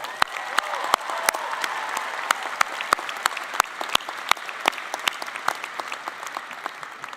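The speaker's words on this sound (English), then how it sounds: "Let's give them a round of applause." A graduation crowd at Tulane's commencement applauds the families, with sharp individual claps standing out over a dense wash of clapping from a large audience, with no talking.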